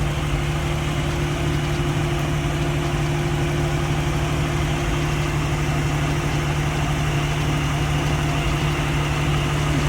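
Car engine idling smoothly after an engine refresh, a steady, even hum with constant loudness throughout and no revving or talking.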